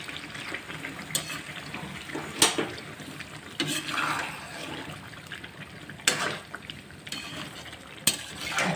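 A spoon stirs creamy tikka karahi with masala in a pan over a low flame. Irregular scraping clanks sound close up over a soft, steady sizzle.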